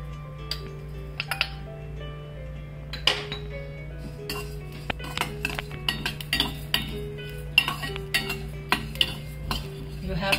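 Coriander and cumin seeds roasting in a pan, with repeated clinks and scrapes of a utensil stirring against the metal, close and fairly loud, in irregular bursts throughout.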